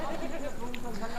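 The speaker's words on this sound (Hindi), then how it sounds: "ये 100 किलो का बकरा है" A heavy 100 kg goat bleats briefly and close by, mixed with people talking over it.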